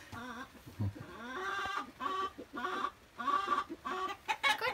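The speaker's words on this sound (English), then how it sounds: "some of the hens are laying their eggs." Hens in a chicken coop cluck and squawk in short, repeated bursts, several calls close together and fairly near, with no talking.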